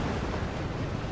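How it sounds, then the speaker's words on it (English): Stormy open sea in Assassin's Creed Black Flag with a waterspout nearby: a steady, dense roar of wind and crashing waves, fairly faint and unbroken for a short moment, with no voices. "Is there supposed to be a water spout here and I just happen to encounter a storm and get two of them?"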